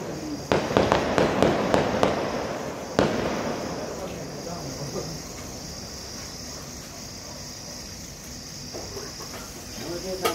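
Diwali fireworks: a rapid run of sharp cracks and bangs for the first few seconds, one more loud pop, then a fading crackle and steady hiss at a moderate distance.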